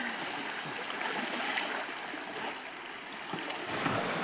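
Continuous river water washing and rushing around a boat heading up an unnamed wilderness river, a steady broadband swash with slight swells, close and moderately loud, with no talking.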